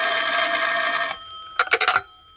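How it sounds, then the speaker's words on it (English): A telephone rings as a radio drama sound effect, heard up close and loud. One long ring is followed by a short pause and then a quick burst of three or four shorter rings. "When I walked into the office, the phone was ringing"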